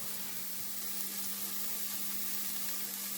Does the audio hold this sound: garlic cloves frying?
yes